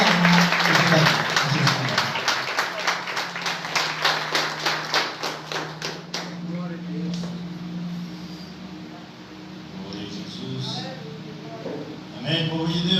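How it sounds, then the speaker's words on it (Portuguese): A church congregation claps in a quick, rhythmic burst of praise, loud and even at first, then fades into scattered claps as a voice begins speaking over the room. "E um salve de palmas para Jesus, porque Ele merece toda a honra e toda a glória."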